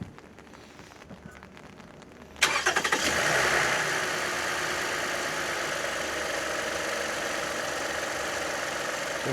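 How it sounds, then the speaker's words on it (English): A 2015 Toyota Sienna AWD engine cranks and catches about two seconds in, then settles into a steady close idle that runs to the end. "we are going to start the engine now just to verify for leaks"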